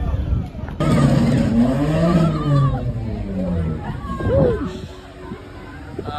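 A BMW doing donuts at a charity car wash run, its engine revving and rising and falling in pitch with a tire squeal near the end, loud and close, while a crowd chatters over it.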